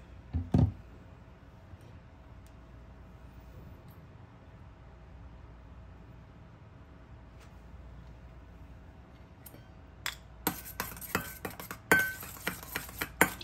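A spoon stirs ebimayo sauce in a bowl, quiet at first, then a quick run of light clinks and scrapes against the bowl toward the end.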